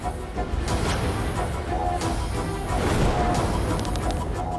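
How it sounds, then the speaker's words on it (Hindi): Dense battle sound effects for a storm of arrows loosed by Ravana in a Ramayana war scene: continuous loud whooshing and crashing with booming impacts, sustained throughout with no speech. "अब देखो रावण के बाणों की आंधी।"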